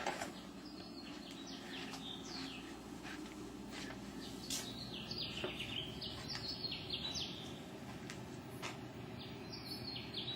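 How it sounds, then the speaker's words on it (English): Birds sing faintly outside at dawn, scattered chirps and short warbling phrases repeating over a low background hum. "The birds are singing right now."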